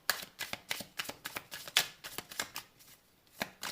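Tarot cards being shuffled in a quiet room, a run of quick soft riffling flutters and slaps repeating in a close, faint rhythm with no talking.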